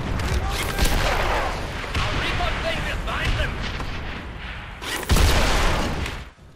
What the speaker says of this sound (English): laugh as 2 satchel explosions rip through any tank